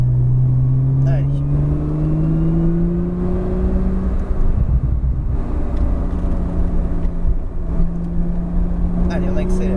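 A Porsche 911 Turbo S pulls hard along a circuit at La Ferté-Gaucher, its engine note climbing steadily and then dipping as it lifts off, loud and close throughout, with a voice speaking over the run.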